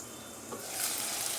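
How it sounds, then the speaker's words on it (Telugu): Ingredients for butter chicken frying in a pan with green chillies, a soft sizzle that swells louder after a stir partway through, close and brief. "పలుకులు కూడా వేసుకుని వీటిలన్నిటినీ కూడా ఫ్రై చేసుకోవాలి"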